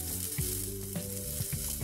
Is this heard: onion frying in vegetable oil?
yes